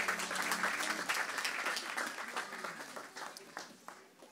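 Church congregation applauding after a time of praise, a dense round of clapping that starts strong and gradually thins and fades, with a few voices mixed in.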